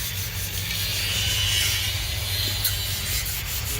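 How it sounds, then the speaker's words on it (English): A second skim coat being sanded off: a steady, continuous rasping scrape at close range that runs the whole time without a break, over a low hum. "And he's sanding. The second skim coat's coming off."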